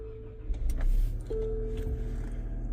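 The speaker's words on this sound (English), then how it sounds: "First I'm gonna start the vehicle." A 2025 Nissan Rogue is started, with a faint click and a starter whir giving way to a low steady idle hum and a thin electrical tone, heard close inside the cabin with no talk.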